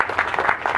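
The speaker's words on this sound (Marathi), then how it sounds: "एका जोरदार टाळ्या झाला पाहिजे त्यांच्यासाठी." Audience clapping at a felicitation ceremony, a brief steady burst of applause from a gathered crowd.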